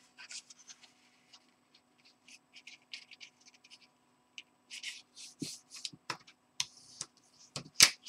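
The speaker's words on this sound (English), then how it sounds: "you fold it this way in half, then you fold it in half this way" Origami paper for a flower lantern crinkles and scratches as it is folded, in close, soft, irregular bursts that grow busier toward the end.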